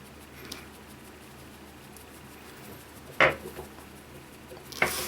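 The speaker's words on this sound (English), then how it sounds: "I take my wet beauty blender and just pat that all in" A wet beauty blender sponge pats foundation onto skin, giving soft, faint dabbing taps close by, with a couple of sharper clicks.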